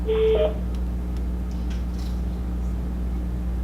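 A brief telephone tone sounds at the start as a caller joins a conference line during a public commission meeting, a short electronic beep over steady low line hum, followed by faint clicks.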